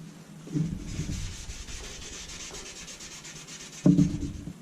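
Steady close-up rubbing of fine wet sandpaper, 600 then 2000 grit, on an axe head, a continuous soft scrubbing rhythm bracketed by two louder knocks.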